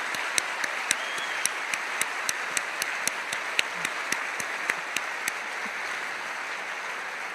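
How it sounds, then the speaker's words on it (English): An audience at a talk applauds two women, Beth and Candy, in a sustained, even wash of clapping with a few distinct nearby claps ticking out regularly over the top before they fade out. "We want to give you a shout out and applaud you for your efforts."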